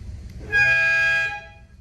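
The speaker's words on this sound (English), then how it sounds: "You got a regular horn, but you also have an air horn" A loud, steady air horn blast on a 1995 Bentley Brooklands, with a bright, brassy tone, holds for close to a second, then cuts off.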